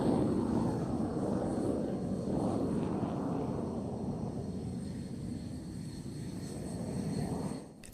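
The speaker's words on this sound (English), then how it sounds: "The JF-17 continues the steady climb before reversing to reposition for a pass from the right hand side." A JF-17 fighter jet climbing and reversing during an air display, a continuous distant engine roar that holds steady and then fades slightly before cutting off.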